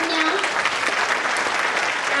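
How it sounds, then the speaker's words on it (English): Loud, dense applause from a school annual day audience fills the whole moment, steady and unbroken. "A loud round of applause for Lavanya"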